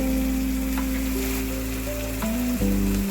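Vegetarian doi potol curry ingredients fry in hot oil with salt, giving a steady, close sizzle that runs throughout under a sustained tonal hum, with no one speaking.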